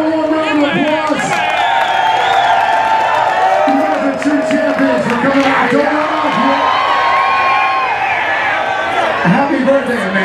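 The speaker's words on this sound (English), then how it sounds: "everybody give them a warm round of applause" A loud crowd at an outdoor bikini contest cheers, whoops and shouts with scattered clapping, a dense continuous din with voices calling out throughout.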